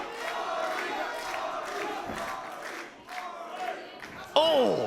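A wrestling crowd roars and chants behind Artemis Spencer during a DEFY match against Swerve, a dense far-off cheer under close commentary, ending in a sharp sweeping squeal.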